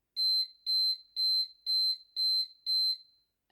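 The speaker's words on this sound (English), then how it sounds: "the alarm went off" An electronic alarm goes off in six evenly spaced, high-pitched bursts, each a quick double-pulsed beep, sounding fairly near and alone before stopping.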